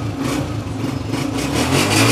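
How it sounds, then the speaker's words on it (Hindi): A 2012 Honda 125 motorcycle engine runs close by, a steady throbbing mid-pitched rumble that swells louder toward the end as it revs. "होंडा 125 मॉडल 2012, साउंड सुने सबसे पहले"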